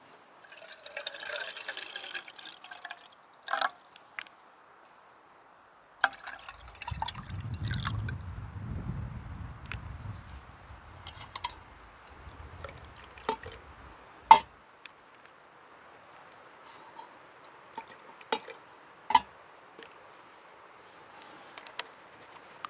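Water splashes and pours into a camping stove pot in bursts, about 2 cups, followed by scattered drips and small metallic ticks, fairly close and quiet.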